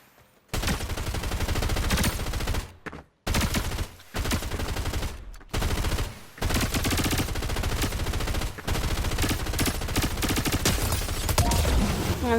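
Rapid SMG fire in Fortnite plays as long, loud automatic bursts of dense, rattling shots, broken by a couple of short pauses, with no talking over the gunfire.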